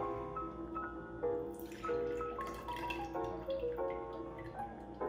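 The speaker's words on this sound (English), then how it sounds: "go ahead and just pour that out." Pineapple juice pours out of a hollowed-out pineapple, a faint, steady trickle with soft drips, heard alone under a quiet tonal background.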